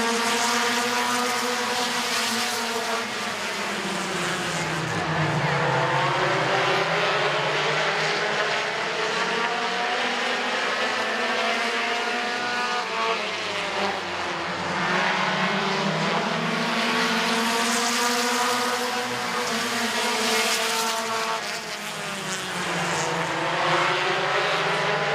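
Race cars in a heat race at Midvale Speedway roar loudly and continuously, engines rising and falling as they circle the track and pass close by, with no voices over the din.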